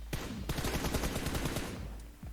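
Rapid bursts of gunfire from PUBG Mobile, close and loud, with dense repeated shots through most of the stretch and a brief lull near the end.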